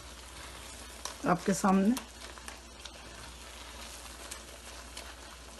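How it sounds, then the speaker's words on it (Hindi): Moong daal halwa sizzles and fries in a pan on medium heat while being stirred continuously, a close, steady crackle with spoon scrapes, briefly under a short spoken remark. "और मीडियम हीट पर हम इसको पका रहे हैं और मुसलसल चमचा चला रहे हैं इसका"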